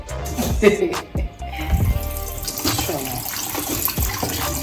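Goat head meat is rinsed under running water for Jamaican goat head soup, a steady splashing stream with a few louder bursts as the pieces are handled, while a person talks over it.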